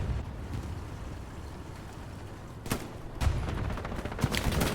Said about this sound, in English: There's Shane taking some long-range shots with his submachine gun